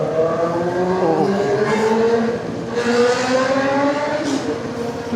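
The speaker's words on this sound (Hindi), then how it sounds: "लाउड है इसका एग्जॉस्ट" Royal Enfield Himalayan 450 motorcycle rides at night in Mumbai, its loud exhaust a steady engine drone with rising and falling harmonic pitch as it revs, close and continuous throughout.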